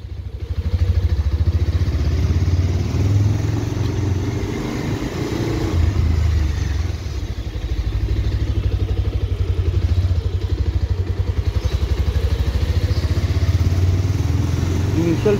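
A Bajaj Pulsar 220F motorcycle, 2023 BS6 model, rides along in second gear with a loud, steady engine drone and rough low rumble, plus wind noise throughout.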